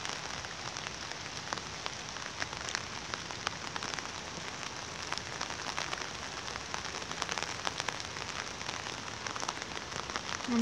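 Autumn rain falls on surfaces on Krestovsky Island in Saint Petersburg, a dense, even patter of countless drops that continues without a break and with no voices.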